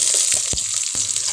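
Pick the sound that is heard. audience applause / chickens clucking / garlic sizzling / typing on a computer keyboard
garlic sizzling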